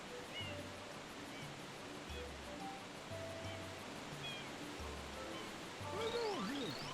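Steady rushing water from a waterfall and ocean in the video game Super Mario Sunshine, a soft continuous wash with faint game tones over it.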